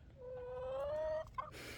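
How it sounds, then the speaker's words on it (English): A single drawn-out hen cluck rises into a short squawk, close by and fairly quiet, ending with a brief rustle. "There comes another chicken."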